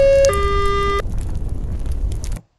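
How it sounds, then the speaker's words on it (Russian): A fire engine siren wails with steady, stepped electronic tones over road noise, then cuts off and the sound fades out. "Приехала пожарная машина."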